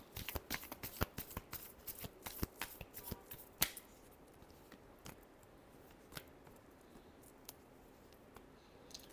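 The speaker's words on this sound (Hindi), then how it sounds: "Last shuffle." Tarot cards being shuffled close up, a rapid run of crisp riffling flicks that grows sparse and fades into a few faint isolated snaps, quiet and without any voices.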